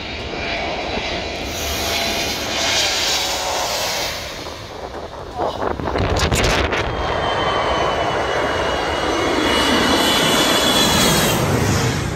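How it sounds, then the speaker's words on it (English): An Airbus A321 descending toward the runway at Skiathos Airport, its jet engines roaring loud and close in a sustained, swelling drone that passes overhead, with beachgoers' voices faintly mixed in. "an Airbus A321 aircraft descends toward the runway at Skiathos Airport"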